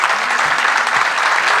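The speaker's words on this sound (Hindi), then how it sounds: "एक बार इस सभागार में बैठी एक एक बेटी, एक एक बहन के लिए जोरदार ताली हो जाए" A hall audience at a poetry gathering breaks into loud, dense clapping, steady and close throughout the short burst.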